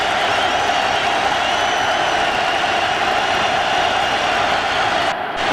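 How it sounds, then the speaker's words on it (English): A Syracuse football crowd inside the dome during a 2005 game against West Virginia, a loud, sustained roar that stays dense and unbroken until it briefly dips near the end. "And again, the Syracuse crowd up in the dome."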